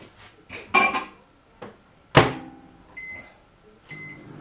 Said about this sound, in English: I'm going to do it in the microwave